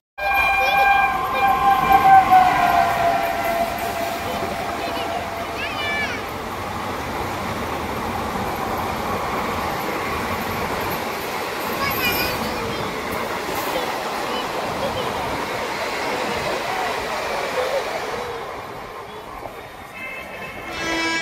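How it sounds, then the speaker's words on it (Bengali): A train rolls into a crowded station platform, a continuous low rumble of wheels with a horn early on, amid crowd murmur and people talking nearby. "এই সবে আমাদের ট্রেন ঢুকছে"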